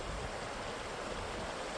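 A swollen river rushes past near a beach, a steady broadband roar of churning water that stays constant and close with no other sounds.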